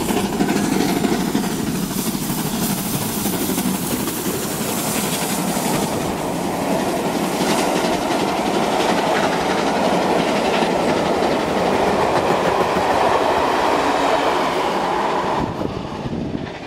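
A steam charter train rolls past at Bridgend, loud and close, a continuous rumbling roar with rhythmic clattering of wheels over rail joints that holds for the full stretch before easing slightly at the end.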